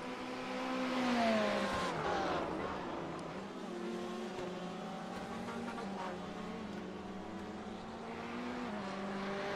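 Race cars, including a Ferrari, run laps at Silverstone in a sim racing sportscar championship, their engines droning steadily with rising and falling pitch as cars pass, loud and continuous with no talk.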